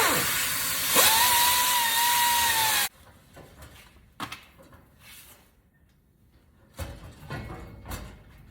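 A die grinder on a 1965 Cadillac hearse whines loudly as it cuts through the exhaust mufflers, then stops abruptly, leaving scattered metal clanks and thuds.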